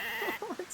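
Sheep bleating in a video game, a short nasal wavering bleat of two or three pulses heard up close over a faint background hum.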